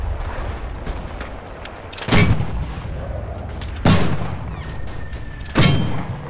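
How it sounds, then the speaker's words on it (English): Mortar shells fire in the World War II game Enlisted, three heavy thumping booms spaced roughly a second and a half apart over a low rumbling battlefield background. "Pull out our mortar again."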